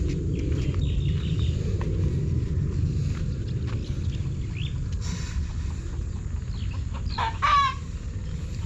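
Backyard chickens with a young black rooster cluck and call close by over a steady low rumble, with a short sharp cry near the end.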